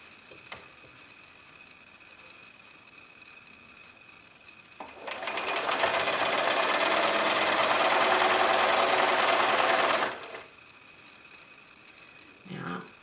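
A sewing machine stitches through the body seams of a fabric cat, a steady rapid mechanical whir that starts after a few quiet seconds, runs for about five seconds and then stops abruptly. A faint click follows.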